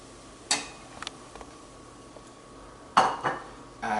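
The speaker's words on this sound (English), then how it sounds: "Toss in our onion." Onion tossed into a pot with soda while cooking BBQ tofu, heard as a few sharp clinks and knocks of pot and utensils, with quiet gaps between them.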